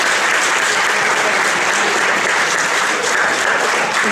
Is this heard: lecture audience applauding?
yes